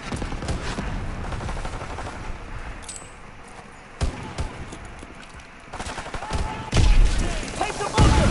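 Machine gun nests in bunkers firing in Call of Duty, bursts of automatic gunfire with heavier thumps and booms, louder crackling volleys near the end over a busy battle din.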